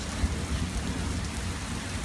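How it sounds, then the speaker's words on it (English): Steady rain in Florida hisses evenly, a dense wash of falling drops with a few low thumps, continuous and fairly close, without voices. "It's raining."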